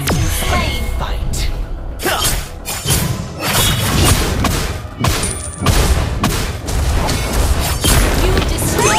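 A turret is destroyed in a Mobile Legends battle, with heavy thuds and booming impacts amid busy game combat effects and continuous talk.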